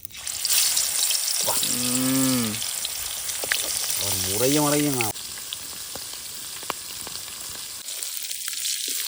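Three pieces of fish frying in oil at an outdoor picnic, a continuous hissing sizzle close by, with a voice and some drawn-out vocal sounds over it partway through.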